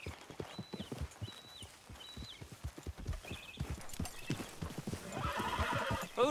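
Regular clip-clop of horse hooves trotting in the video game Red Dead Redemption 2, with a few short synthetic chimes and a horse whinnying near the end.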